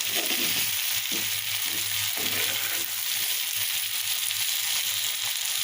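Steady sizzling of flat beans and potatoes frying in oil in a pan, a continuous crackling hiss with occasional stirring scrapes, close up and without voices.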